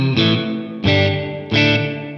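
Electric guitar played through an MXR Reverb pedal in room mode: three strummed chords, each ringing out with a short, subtle room tail before the next, sounding close and clear with no voices.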